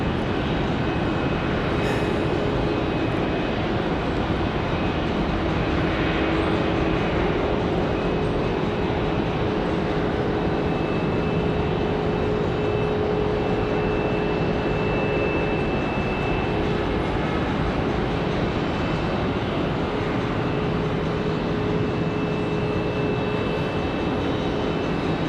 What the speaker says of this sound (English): Do have a Delta coming in.